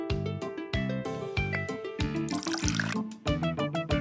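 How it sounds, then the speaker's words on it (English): Hot milk poured over cocoa in a mug in a kids' game, heard as a string of bright, plinking liquid filling and dripping effects repeating in a quick rhythm. "Now we need to pour hot milk over the cocoa."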